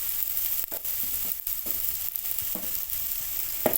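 Chopped ginger frying with spices in a pan for a cauliflower chop recipe, a steady close sizzle with a few scraping stirs at irregular intervals, no talk.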